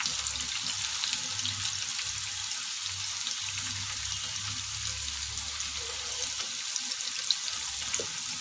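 Slices of nendran banana frying in hot oil, a continuous soft sizzle and bubbling with occasional faint stirring clinks, moderately quiet and close, with no voices.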